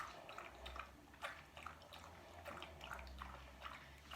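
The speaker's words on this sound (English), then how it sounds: "Sorry for my pug's extended drinks of water." A pug drinking water, with soft, rapid, repeated lapping and slurping, faint and close, continuing steadily throughout.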